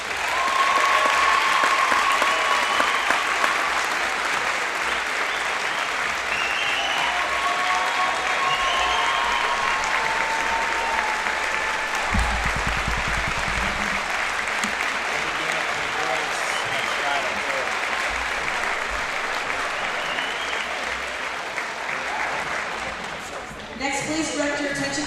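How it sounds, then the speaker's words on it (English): Sustained applause from the crowd at a girls' high school basketball game fills the gym, a dense, even wash of clapping with scattered cheers that carries on for over twenty seconds before tapering off. "Let's all give him a big round of applause."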